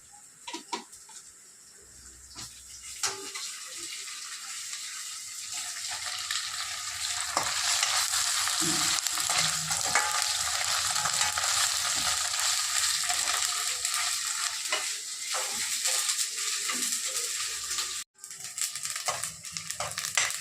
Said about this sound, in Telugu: ఉల్లిపాయలు వేగుతున్నాయి కదా, వేగేటప్పుడు మనం 1 స్పూన్ అల్లం పేస్ట్ వేసుకోవాలి